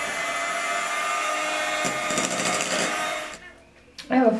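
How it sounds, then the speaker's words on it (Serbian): An electric hand mixer whips cheese with sweet cream into a strawberry charlotte filling, giving a steady buzzing whir that cuts off near the end, followed by a brief clatter. "I nastavit ću da mutim sa mikserom."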